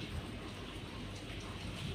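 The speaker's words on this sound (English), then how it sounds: "Teddy Horsley says thank you for the rain" Rain falling as a steady, dense hiss with a low rumble beneath, continuous and even throughout, with no talking.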